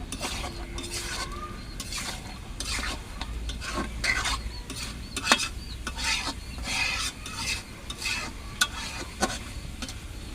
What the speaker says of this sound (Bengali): মাংসগুলোকে এখন একটু নেড়ে চেড়ে দেবো